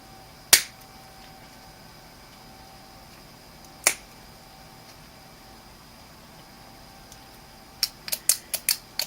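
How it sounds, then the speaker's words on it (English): Cutters snip holes in the red plastic casing of a Sanyo Xacti CG20 camera: two sharp, isolated snaps a few seconds apart, then a quick cluster of five or six clicks at the end, close and crisp over quiet background. "I have to snip two holes. One here for the negative and one over here for the positive."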